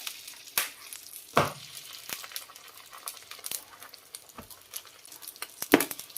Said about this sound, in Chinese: 盖上盖子，开小火给它烙1分钟